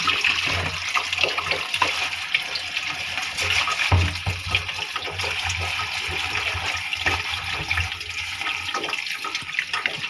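A cooking pot is washed under running water for taro-leaf cooking, a steady splashing gush with occasional clanks and surges, close and continuous.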